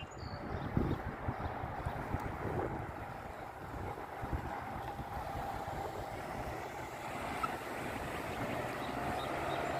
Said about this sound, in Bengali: আজকে ভীষণ হাওয়া দিচ্ছে